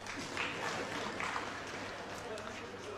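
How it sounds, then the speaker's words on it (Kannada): An audience at a humorous talk breaks into steady, dense clapping that carries on evenly for a few seconds, heard at moderate distance. "ಗಂಡಸರು ಚಪ್ಪಾಳೆ ಹೊಡಿಬೇಕು"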